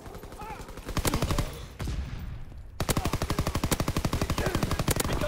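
Sniper and automatic gunfire in a World War II style video game, a burst of rapid, loud shots, a brief lull, then a long steady stream of evenly spaced close gunfire running to the end.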